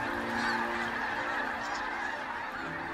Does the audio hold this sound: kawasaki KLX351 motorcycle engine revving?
no